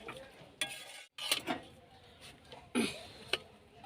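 Spices and garam masala being stirred in a cooking pan for alur dom, with intermittent scraping and clinking of a spoon against metal, quiet and close.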